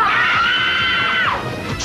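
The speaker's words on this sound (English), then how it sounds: "If one more guy comes up to me, I'll just scream." A woman lets out a long, loud, sustained scream in a 1991 Sky One TV ad, her voice holding steady before sliding down at the end, with some background noise underneath.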